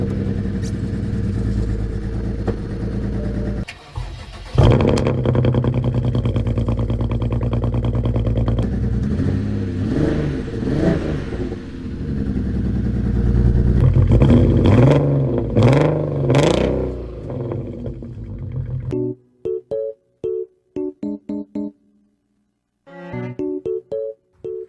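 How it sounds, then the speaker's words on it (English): A BMW 335i engine with a cylinder 6 misfire runs rough and loud, running on five cylinders, with uneven revving and a lumpy, stumbling idle before cutting off into a few choppy bursts. "basically what just happened is the car is running on 5 cylinders"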